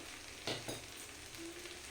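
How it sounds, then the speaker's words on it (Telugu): Chili powder, turmeric and salt being stirred into frying alchanthakaya, with a soft steady sizzle and a couple of brief scraping stirs near the middle, no talk. "రుచికి సరిపడా ఉప్పు వేసి మళ్ళీ ఒకసారి బాగా కలుపుకోవాలి"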